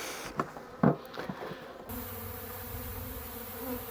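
Honeybees buzzing at a weak, sparsely populated hive. A few soft knocks and rustles of handling give way to a steady, close hum of wings.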